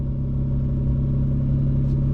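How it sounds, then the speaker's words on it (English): A Nissan Pathfinder's VG30 engine idles rough just after starting on year-old fuel, giving a close, steady low rumble with a slightly uneven, lumpy pulse and no voices. "Whew, she's running rough."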